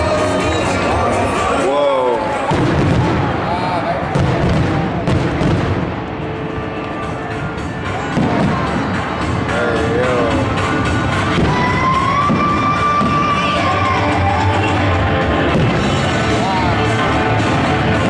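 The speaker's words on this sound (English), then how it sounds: "they have a free fireworks spectacular" Dense, continuous booms and crackles from fireworks bursting after an MLB baseball game, amid a noisy stadium crowd, with cheering and chatter throughout.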